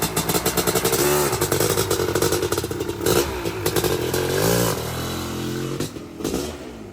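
A Honda CR500 dirt bike with electric start fires up and runs loud and close, its engine throbbing in a steady, rapid pulse with small revs and some mechanical clatter, no talking over it.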